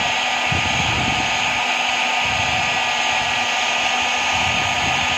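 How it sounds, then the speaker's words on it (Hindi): A hot air welding gun repairs a damaged plastic water tank with a steady, loud blowing whoosh. Faint scraping and handling noises come and go underneath it. "अभी हम इस पर एक बार से और मारेंगे टांका तो ये अपना वेल्डिंग हो जाएगा"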